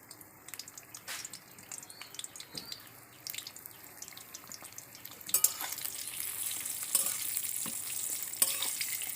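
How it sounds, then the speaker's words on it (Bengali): Pointed gourd (potol) with turmeric fries in hot oil, giving a soft sizzle and stirring clatter that grows noticeably louder and fuller about halfway through. The sound is close by, with no voices. "আমাদের পটলটা ভাজা হচ্ছে হোক।"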